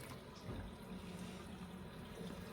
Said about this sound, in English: So we're just sparging away now. Letting it run very gently and having a nice little layer of water above the grain bed.